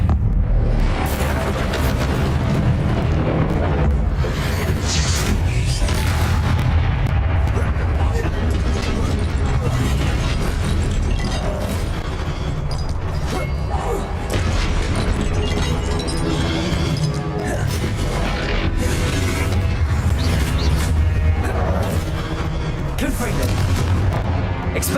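Hogwarts Legacy spell-casting combat fills the whole stretch with dense, loud magical blasts, crackles and shattering impacts, with a voice calling out spell names throughout the action.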